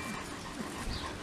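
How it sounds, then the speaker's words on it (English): Four-week-old Bernese Mountain Dog puppies pant softly and let out faint, short whimpers, quiet and close in a brief moment. "Puppies, where is my babies? Where is my puppies?"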